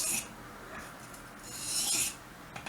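A knife blade is swept along a fine whetstone in two smooth, raspy strokes, close and fairly quiet, with no talk.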